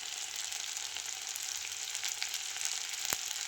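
Turmeric and chili powder frying in a pan, giving a steady, close hiss of sizzling oil with faint stirring scrapes and one sharp clink near the end; no one speaks.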